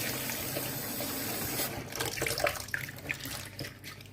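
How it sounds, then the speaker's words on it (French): Running tap water rinses onion and shallot peels in a kitchen sink, a steady close splashing stream that breaks into uneven splatters as the peels are moved under it. "je vais rincer encore une petite fois mes pelures d'oignons et d'échalotes"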